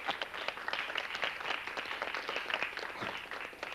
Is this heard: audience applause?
yes